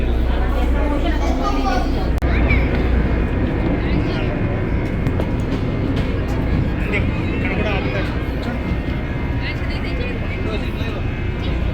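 A tourist boat on the way to the Statue of Liberty in New York Harbor carries a steady engine rumble and water wash throughout, with several people talking nearby over the continuous drone.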